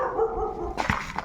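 A dog barks in a few sharp, close bursts that break in after a steady droning background, with the barks landing in quick succession near the end.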